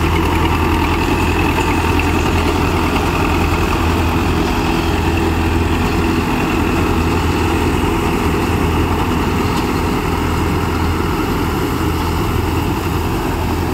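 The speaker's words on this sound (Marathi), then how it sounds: "हा फार्मा ट्रॅक 4 सिलेंडरचा ट्रॅक्टर आहे" A Farmtrac four-cylinder tractor engine idling in a steady, loud, close rumble with even mechanical hum, continuing unchanged throughout with no voices.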